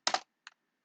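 Keys clack on a computer keyboard while a shortcut is typed: a quick close double tap, then a fainter single click after a short pause.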